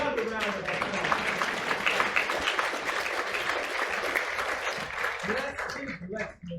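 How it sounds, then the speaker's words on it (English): An audience at a charity gala applauds steadily, a thick continuous wash of clapping with voices and cheering mixed in, fading out near the end. "Give yourselves another round of applause."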